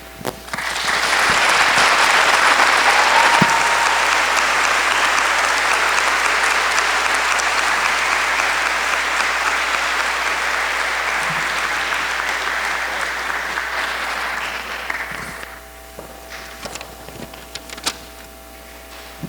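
Sustained audience applause after a Veterans Day celebration speech, a loud, dense crowd of clapping hands that swells quickly, holds for about fourteen seconds, then fades into scattered claps and quiet.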